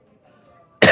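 One short, sharp cough bursts out at the very end after near silence, close to the microphone and fairly loud.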